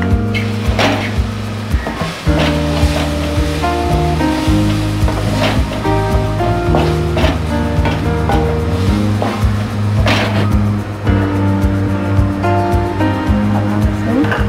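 Carrots for nasi goreng hiss and sizzle steadily in a hot pan, loud and close, with music playing over the frying throughout.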